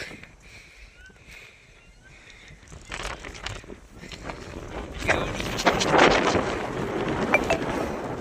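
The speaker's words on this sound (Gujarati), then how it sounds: "પવન જોરદાર આવે છે" Gusty wind buffeting outdoors on a hilltop, quiet at first then roaring louder and rougher toward the end, with no speech.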